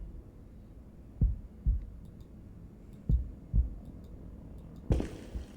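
Heartbeat in the video game Tsukihime Remake: slow, heavy low thumps in paired beats, close and alone over a faint hum, with a sharper burst of noise near the end.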